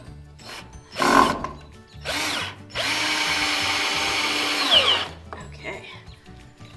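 A power drill drives screws into pallet wood while a sheep barn stall is being built, sounding in several bursts: short whirs at first, then a long steady run of about two seconds, with faint handling noise between them.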